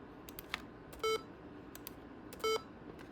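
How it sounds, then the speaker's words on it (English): Two short electronic beeps from a computer running Windows 2000 Build 1946 sound about a second and a half apart over a quiet hum, with faint clicks in between. "Yeah, it's still making beeps."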